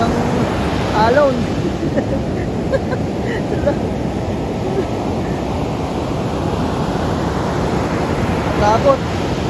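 Heavy surf rolling onto a beach at a resort in Morong, Bataan, a continuous loud wash of waves with wind noise and faint distant voices.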